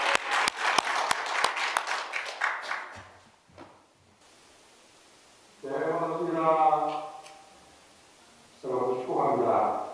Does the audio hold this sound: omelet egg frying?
no